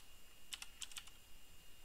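A few quick, faint keystrokes on a computer keyboard, about five light clicks clustered in the middle of an otherwise quiet moment.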